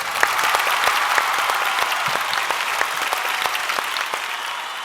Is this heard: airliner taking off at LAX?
no